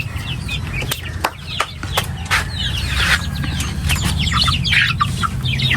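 Native chickens eating feed, soft clucks and chirps scattered over a low steady background hum, with sharp pecking taps near the start, close and moderately loud, no voices.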